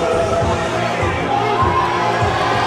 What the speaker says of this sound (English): the crowd erupts here early on from the very first match